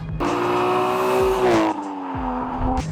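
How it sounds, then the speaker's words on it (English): Lexus IS200 street drift car, 210 kW, revving hard with a steady rising engine note and a high differential whine from the rear, the pitch climbing then dropping briefly before holding again; loud and close, no talking. "you can hear the diff whine at the back"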